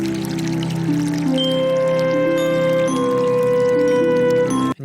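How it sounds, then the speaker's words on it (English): Running water flows in a steady, continuous trickle within a layered soundscape, blended with sustained tonal sounds and cutting off abruptly at the end. "I'm just going to paste in some more running water there"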